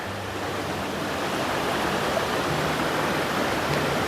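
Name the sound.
wide creek flowing at a crossing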